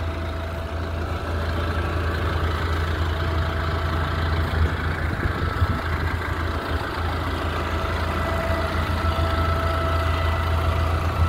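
A Kubota M135GX tractor with front loader and front suspension idles steadily nearby, a constant low diesel rumble with a faint mid-range knock, unbroken and alone for the whole stretch.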